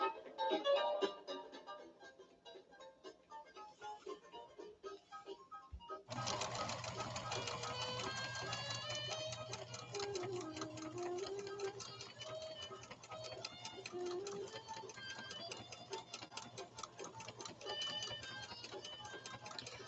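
A PFAFF Creative 1471 sewing machine starts up after a quiet pause and stitches in a fast, even mechanical rattle that continues to the end, with a person speaking over it.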